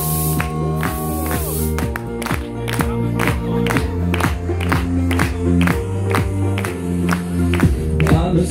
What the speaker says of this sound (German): Und dann klatschen wir zusammen.